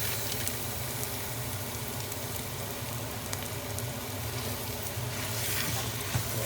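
Beef mince sizzles and fries steadily in the inner pot of a Mr D thermal cooker, a close, continuous crackling hiss that holds at even loudness throughout, with no talk over it.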